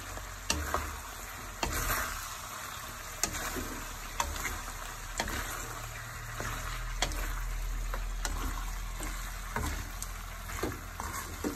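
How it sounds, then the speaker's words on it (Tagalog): Liver for Ilocano igado sizzles steadily in a hot pan, a continuous frying hiss with scattered louder pops and spatters, close and clear with no talking. "Lagay natin ang atay."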